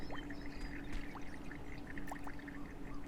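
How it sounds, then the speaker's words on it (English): Water drips in the video game Beyond Eyes, with a few short, separate drops falling over a steady low ambient hum and faint trickling. "Okay, something's dripping there."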